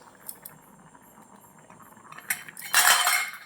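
The lid comes off a miniature cooking pot of khichdi in a toy-sized kitchen: quiet light scraping, then a bright metallic clink and rattle near the end, close by.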